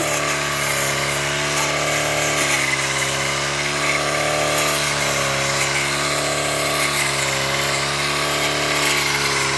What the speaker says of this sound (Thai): ตัดด้วยเครื่องตัดหญ้านะคะ